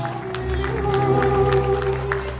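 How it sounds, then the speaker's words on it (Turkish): Wedding guests applaud at a Turkish wedding in Vienna, a steady wash of clapping from a crowd under loud music, continuous through the whole stretch. "Şöyle alkışlar geliyor, güçlü alkışlar."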